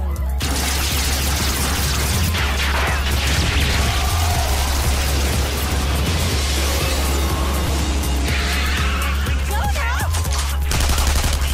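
Automatic gunfire in an anime firefight, dense rattling bursts of rapid shots layered with booms and impacts, loud and sustained throughout, with voices speaking in the middle.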